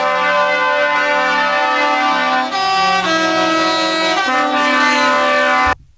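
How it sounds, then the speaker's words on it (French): A loud, brassy klaxon horn blares in sustained multi-tone blasts, shifting pitch a few times before cutting off sharply. "Pouette, c'est le moment klaxon."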